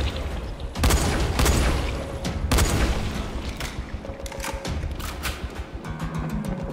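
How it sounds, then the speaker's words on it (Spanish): Loud booms and crackling blasts go off in a rapid chain in the video game Dying Light, followed by rattling debris and lingering rumble. "La explosión se los tiene que llevar a todos."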